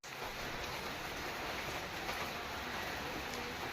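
Water poured over a child to mimic rain, a steady close splashing patter that runs evenly for a few seconds with no talk over it.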